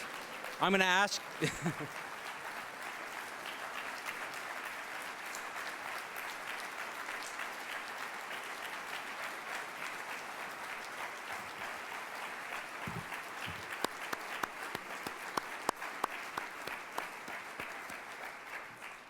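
Sustained, even applause from a conference audience after a presentation at a professional panel, a long steady wash of many hands clapping with a short voice at the start.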